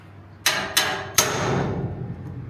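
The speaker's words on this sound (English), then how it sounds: "So we can hammer that down too." Three loud metallic hammer strikes on a vehicle's front end, the last one ringing out and slowly fading.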